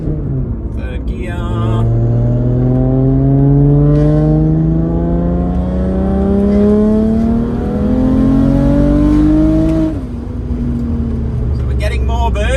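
A tuned car pulls hard in third gear, engine note climbing steadily and loudly for about ten seconds before a gear change or lift, with a brief voice at the start.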